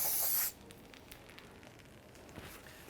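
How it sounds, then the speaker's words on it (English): Brake parts cleaner sprays from an aerosol can onto the rear brake backing plate of a 2015-2019 Hyundai Sonata, a loud close hiss lasting about half a second before falling to quiet workshop background. "Just going to use some brake parts cleaner."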